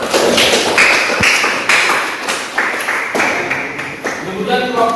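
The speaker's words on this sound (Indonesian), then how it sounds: "Ya, tepuk tangan." Students in a classroom clapping for a group presentation, a burst of loud, uneven claps and taps close by, with voices talking over them.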